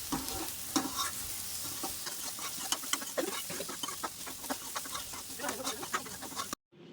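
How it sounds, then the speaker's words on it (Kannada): Capsicum and mixed vegetables stir-fry with salt and spices in a pan, with a continuous sizzle and frequent sharp scraping stir strokes close by, ending in a sudden cut. "ಈಗ ಇದನ್ನು ನೀಟಾಗಿ ಮಿಕ್ಸ್ ಮಾಡಿಕೊಂಡು ಚೆನ್ನಾಗಿ ಫ್ರೈ ಮಾಡ್ಕೋಬೇಕು"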